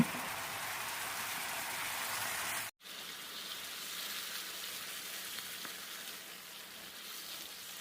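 Shiitake mushrooms stir-fry in a pan with seasoning sauce, celery and red chili, giving a steady, even sizzle. It breaks off for a moment near the midpoint, then comes back slightly lower and continues without any talk.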